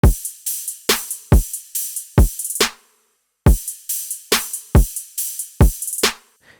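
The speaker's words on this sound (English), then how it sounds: "So the drums sound like this." Electronic drum loop for a frog bass track built in Serum 2 at 140 BPM: punchy kick with layered snares in a steady pattern, two bars with a short gap between, loud and alone.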